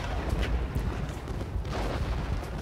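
Artillery fire in a war video game, a continuous rumbling barrage of low booms with muffled blasts layered close together, steady and loud throughout with no talking.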